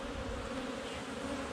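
Honeybees buzz steadily on a hive frame where young bees are hatching, a dense close hum with no pauses and no talking.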